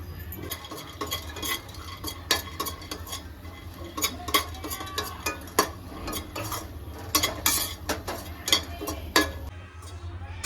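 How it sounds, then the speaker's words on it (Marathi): Raisins frying in ghee in a kadhai, with a spoon scraping and clinking against the pan in quick, irregular strokes over a soft, low sizzle, close up. "मनुके पण आपल्याला तुपामध्ये फ्राय करून घ्यायचे थोडेसे"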